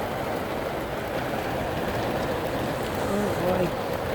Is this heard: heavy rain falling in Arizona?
yes